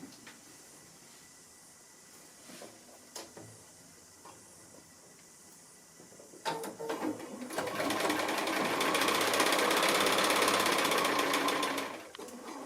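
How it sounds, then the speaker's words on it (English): A sewing machine stitches together three rows of small quilt squares for a house sampler block, running steadily and close for several seconds after quiet handling sounds, then stopping. "I'm just finishing off sewing the 3 rows of the little squares together"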